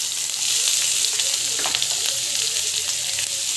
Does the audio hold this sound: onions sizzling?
yes